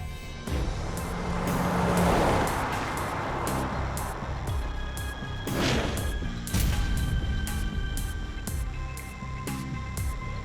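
A car driving, a steady engine and road rumble with passing swells and a few sharper knocks, heard without speech.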